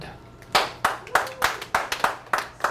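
A small comedy-show audience claps in separate, uneven bursts, sharp slaps spaced across a couple of seconds, fairly close.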